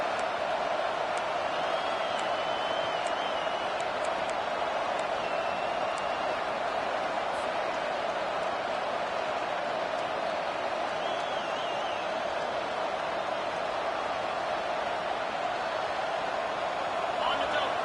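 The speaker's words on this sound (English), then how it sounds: "The roar of the crowd trying to fuel this defense to keep them pinned in their own end" A football stadium crowd roars as a steady, dense wash of noise that never lets up, with a commentator talking over it throughout.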